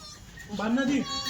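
A Kathiawari goat gives a single drawn-out bleat at close range, rising and wavering over a faint background of other farm sounds.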